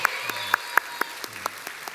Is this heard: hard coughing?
no